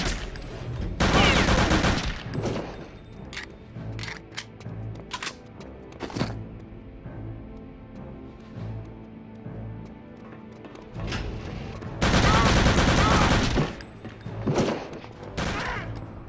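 Loud bursts of automatic gunfire from Return to Castle Wolfenstein, two long sustained volleys with scattered single shots and clicks between them, close and harsh.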